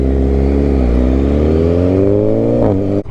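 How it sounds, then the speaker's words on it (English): A loud Suzuki S1KRR motorcycle engine roars close up, holding a steady rising drone with strong harmonics, then cuts off abruptly near the end. "Bro's bike's so loud, I can't even hear"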